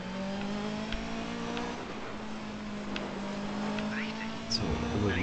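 Car engine in the rally racing video game DiRT 3, a steady droning hum with shifting revs as the car slides and steers, running continuously under soft background sound.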